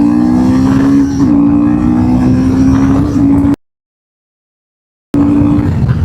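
A Royal Enfield motorcycle launches hard and accelerates, its engine note holding a steady, loud, close drone with a slight shift in pitch. It cuts out abruptly to silence for about a second and a half, then returns.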